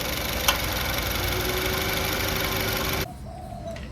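A Honda City GM6 engine with a worn serpentine belt tensioner idles in a steady, even hum for about three seconds, then abruptly drops to a much quieter background.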